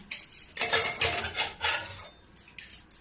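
A metal pressure cooker holding cooked mangoes is opened in a home kitchen, giving a string of light metallic clinks and scrapes from the lid and handle, close by and moderately quiet, with short pauses between them.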